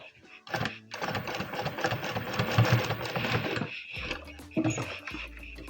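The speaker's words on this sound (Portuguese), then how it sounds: "Agora, eu vou trazer ele pra cá e vou fechar a costura com ele por cima." A sewing machine stitching closed the seam of a fabric bucket bag, running in bursts of rapid needle rattle with short pauses, close and fairly loud.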